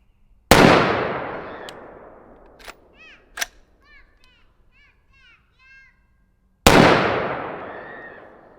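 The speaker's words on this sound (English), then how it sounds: "Now we got the tuned 16-inch AR. I highly doubt it's going to run without a suppressor on it, but let's see." A tuned 16-inch AR rifle fires unsuppressed outdoors, two loud sharp reports several seconds apart, each with a long ringing decay, while faint clinks and brief chirpy sounds fill the gap between them.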